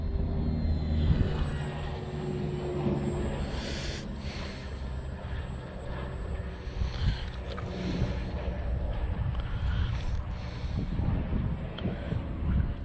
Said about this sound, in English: Low and slow right at the camera here.